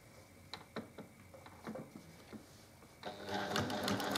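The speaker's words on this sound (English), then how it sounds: "I've extended my stitch length to 3. And I'm just going to follow my guidelines" Home sewing machine with a stitch length of 3 stitching diagonal guideline rows across a quilt block, a few soft separate clicks at first, then a louder continuous rapid whirring stitch run near the end.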